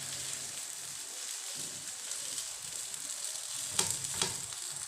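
An aloo paratha pressed flat on a hot tawa over a low gas flame sizzles quietly and steadily, a soft continuous frying hiss with a couple of brief louder crackles near the end.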